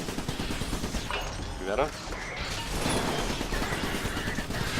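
Gunfire in the video game Iron Brigade, rapid bursts and crackling shots firing over a busy battle mix, with a person talking over the action.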